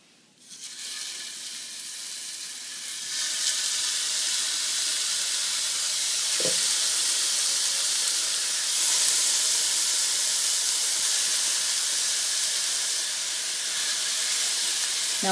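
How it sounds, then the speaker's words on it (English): Hamburger patties sizzle in a preheated skillet, a steady broadband hiss that swells in after a few seconds and holds loud and even, with one brief clink partway through and no talking. "So now we're just going to put them in our preheated skillet and get them ready for dinner."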